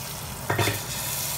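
Hot oil tempering with red chili for Marwari mixed dal and spinach sizzles steadily, with a brief louder burst of crackle and a clink of a pan or spoon partway through.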